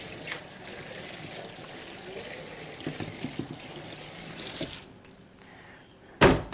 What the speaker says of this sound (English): Wash that board, brilliant.